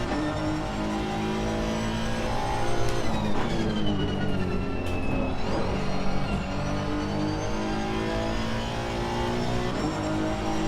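Honda race car engine in a racing video game on a flying lap at Brands Hatch, a loud continuous high-revving whine rising and falling through gear changes and throttle shifts, with no talk.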